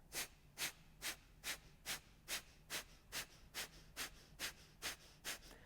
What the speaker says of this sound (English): we'll take a moment of Kapalabhati breathing again